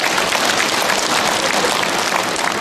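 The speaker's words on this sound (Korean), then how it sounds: "박수 한번 쳐드립니다." A congregation at a Catholic Holy Spirit gathering in Incheon applauds, a dense, even wash of clapping held steadily at close range for the whole stretch.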